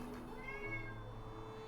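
A cat meows once, a short rising-then-falling cry heard fairly quietly over a low steady background hum.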